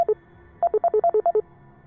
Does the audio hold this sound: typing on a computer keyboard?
no